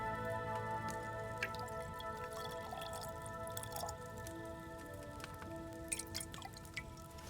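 Liquid poured while brewing a potion at an alchemy station in the video game Kingdom Come: Deliverance 2, heard as soft trickling and dripping over a steady humming background, moderately quiet with no talking.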